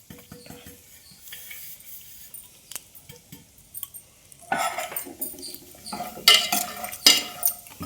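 Cashew curry being stirred in a pot in a home kitchen, quiet at first, then louder scraping and clinking bursts of a spoon against the pan near the end.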